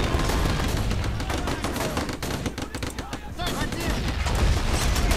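Dense gunfire from the video game Red Tide, sustained bursts of machine-gun fire crackling almost without pause, with a voice talking over the shooting.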